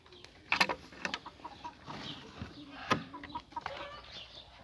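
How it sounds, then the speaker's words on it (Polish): A rooster clucks in short, quiet bursts with scattered rustling and faint scratching nearby, a couple of sharper calls standing out. "Tutaj mamy kogucika"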